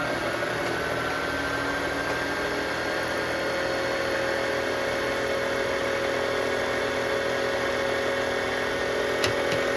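Singer mechanical sewing machine running steadily while winding thread onto its bobbin, a continuous motor hum and whir held at an even level throughout, close, with no talking.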